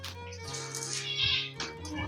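A cat meows in a drawn-out, whiny way several times, close and fairly loud, with no talk over it.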